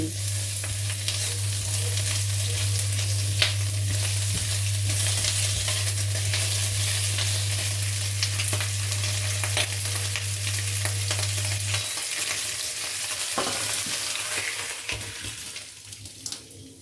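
Lechon pork reheats in a pan with a steady, close sizzle and crackle of frying that runs throughout, with a low hum cutting out partway and light clatter near the end.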